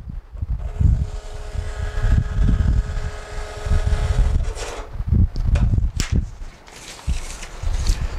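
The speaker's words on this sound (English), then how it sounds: "by pressing the feed button the second time, we receive a test of the print head as well as the density of the print." An Epson TM-T88 receipt printer runs its print-head and density test, giving a steady mechanical whir with clicks and rustle from the paper feed, heard close and alone.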